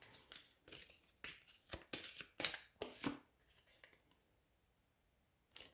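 Cards handled and shuffled close by, a quick flurry of soft riffling and snapping flicks for a few seconds, then near silence and a single faint tap.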